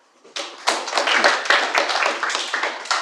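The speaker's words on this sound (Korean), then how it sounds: "여러분 박수 부탁드립니다." Students in a classroom break into a burst of clapping that starts abruptly and continues as dense, uneven hand claps for about three seconds, fairly close and loud.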